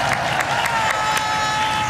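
A crowd applauding and cheering at Japan Expo for a game stunt, a dense wash of clapping with a few sharp bursts, heard at moderate distance under a noisy hall ambience.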